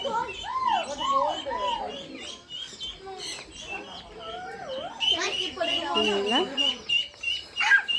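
Several birds calling near and loud at a zoo, with warbling whistles, coos and chirps overlapping, and a person speaking at times among them.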